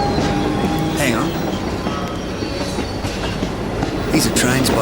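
A train rumbles and clatters at a station platform, steady wheel and engine noise with faint squeals, loud and close, with voices over it.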